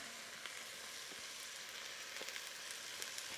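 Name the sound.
onions and garlic sizzling in a pot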